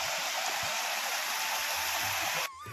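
A small, clear stream fed by a check dam runs along a forest path on the Girnar circuit, giving a steady close trickling wash that cuts off abruptly at the end.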